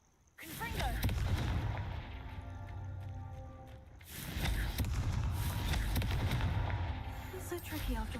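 The Confringo fire spell in Hogwarts Legacy lands as two heavy explosive bursts a few seconds apart, each followed by a loud rumbling roar of fire and impact in the game's combat.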